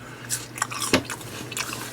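Raw tatsoi leaves dressed with mayo sauce are bitten and chewed close up, giving a few short, crisp crunches in a quiet room.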